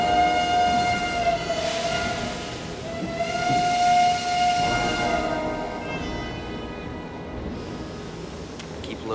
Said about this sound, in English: We'll have to leave the train.